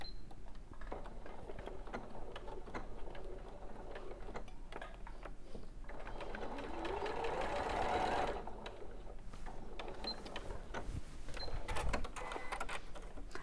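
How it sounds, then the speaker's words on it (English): A sewing machine runs steadily along a seam line, its fast mechanical ticking and whirring continuous and moderately close, rising slightly in pitch midway, with no talking over it. "put a pin along the line that you're going to sew and then open it out and you know it's right."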